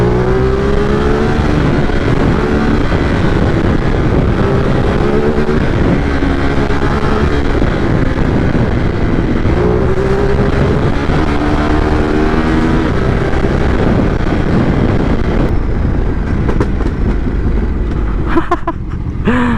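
A Ducati Multistrada 950S motorcycle engine in sport mode roars continuously for nearly twenty seconds, loud and close, its pitch rising and falling as it accelerates and revs, with wind rush throughout.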